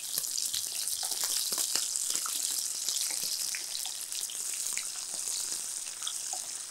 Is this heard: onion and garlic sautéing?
yes